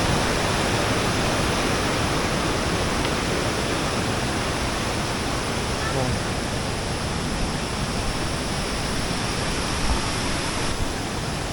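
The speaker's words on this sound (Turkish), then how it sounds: "İki tane şelale var." A large waterfall in Indonesia roars as a dense, steady, loud wash of falling water, unbroken and with no other sounds standing out.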